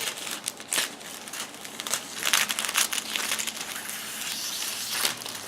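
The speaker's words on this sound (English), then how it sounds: "So this, I'm gonna cut another strip." A strip being cut for a candy money lei, heard as close, continuous crinkling and rustling with irregular louder bursts of handling noise.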